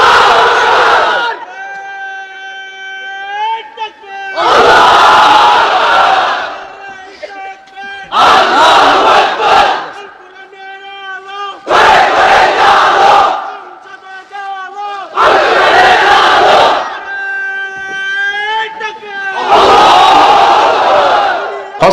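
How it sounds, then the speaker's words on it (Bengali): At a Bangladeshi Islamic sermon gathering, a large crowd of unmarried men roars the takbir back in repeated loud bursts, alternating with a preacher's long, drawn-out chanted calls over a loudspeaker. "এবার অবিবাহিতরা দাও লিল্লাহি তাকবীর"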